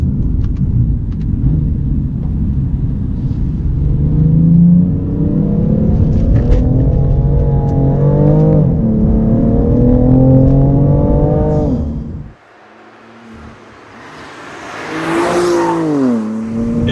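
BMW M3 CS engine pulling hard out of corners, a loud close roar rising in pitch through several gears with brief shift dips, then a sudden cut and a quieter whine climbing again.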